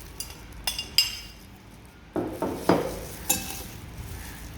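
A utensil stirs mushroom, carrot and microgreens salad in a bowl, making a handful of close clinks and soft scraping knocks in irregular bursts.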